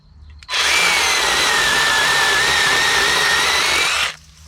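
A Dnipro-M CS-12 cordless chainsaw revs up and cuts into a tree with a steady, loud, high electric whine for about three and a half seconds, then stops abruptly.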